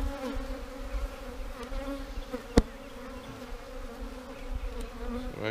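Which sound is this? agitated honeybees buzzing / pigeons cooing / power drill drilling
agitated honeybees buzzing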